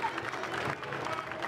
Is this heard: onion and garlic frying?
no